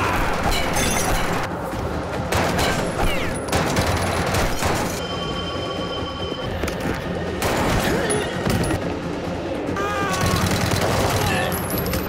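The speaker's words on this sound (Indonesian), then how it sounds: "hingga terjadilah baku tembak" Dense gunfight in an action film, rapid bursts of gunfire with shattering glass and impacts layered over a loud, busy soundtrack, with voices mixed in.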